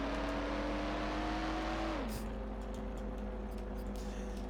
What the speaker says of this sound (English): This car is so noisy,